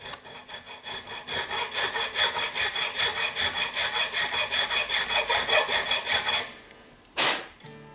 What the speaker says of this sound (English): We're going to make sure that we come in on the correct angle and just file back a little bit